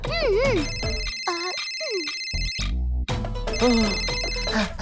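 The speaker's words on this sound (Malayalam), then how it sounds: "ഓ, ഗീത കോൾ ചെയ്യാ." A cartoon phone rings with a bright electronic ringtone of warbling, repeating tones, loud and close, with a brief cut midway before the melody resumes.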